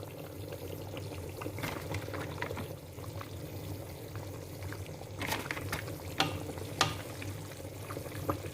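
Flour is stirred gradually into a simmering pork goulash, giving a steady, close wet bubbling and scraping with occasional louder clicks of the spoon against the pot, with no talking.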